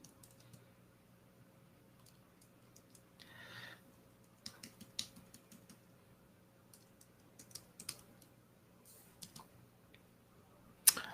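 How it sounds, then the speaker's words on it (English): Quiet, irregular tapping and clicking on a computer keyboard, faint bursts of keystrokes spread over a low background hum, with one sharper click at the end. "Oh, right, I have my keyboard."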